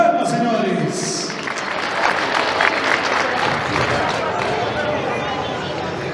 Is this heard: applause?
yes